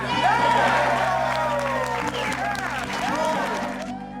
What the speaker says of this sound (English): Crowd went wild.